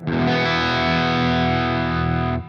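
A sustained, heavily overdriven electric guitar chord through a Dophix Michelangelo Overdrive Plus pedal rings loud and thick for a couple of seconds, then cuts off abruptly.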